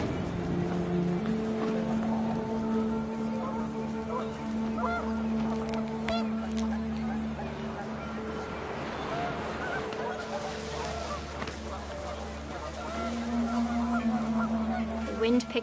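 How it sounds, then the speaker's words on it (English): Panicked geese honk repeatedly in a video game, with wind picking up; loud, overlapping honks run almost continuously and close by, with no talking. "The wind picked up and panicked geese appeared and quickly went."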